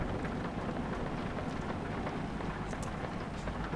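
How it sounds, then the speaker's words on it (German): Rain pours steadily while driving a steep mountain road in Romania during a thunderstorm, a dense continuous hiss with a low rumbling underlayer throughout. "ist ein super nice Erlebnis mittlerweile hier bei Gewitter zu fahren"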